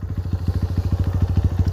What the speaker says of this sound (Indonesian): itu dia suara knalpotnya